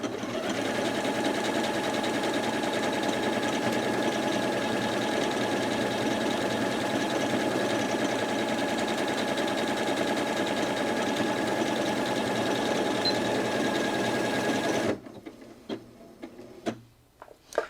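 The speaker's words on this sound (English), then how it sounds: "So I'm going to go ahead and sew out that programme of stitches now." A Janome Atelier 6 Anniversary Edition sewing machine runs steadily through a programmed sequence of decorative stitches, a loud, even motor whir with rapid needle ticking for about fifteen seconds before stopping, followed by a few small clicks.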